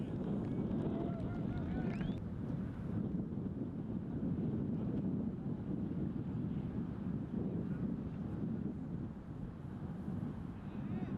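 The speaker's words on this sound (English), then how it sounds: "You know it's windy out when you can see the chains moving." Gusty wind buffets the microphone in a steady low roar on a disc golf course during a tournament round, with occasional faint voices beneath it.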